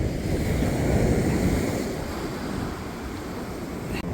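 Sea waves wash onto a Norfolk beach in a steady, rushing surge, mixed with gusty wind buffeting the microphone, continuous and close with no voices.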